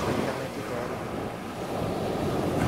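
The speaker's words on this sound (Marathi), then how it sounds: "समुद्राचे खवळलेले रूप पाहून एक वेळ मनात भीतीही वाढली" Rough, choughed-up sea near Arnala Fort seen from a small boat: a dense roar of surging waves mixed with heavy wind buffeting, loud and continuous throughout with no voices.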